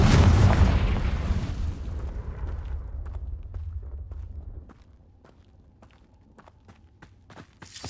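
A loud Confringo fire spell blast from Hogwarts Legacy opens with a heavy booming burst, then its rumble decays over several seconds into quieter scattered clicks and taps.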